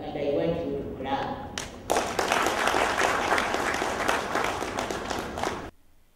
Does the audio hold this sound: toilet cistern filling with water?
no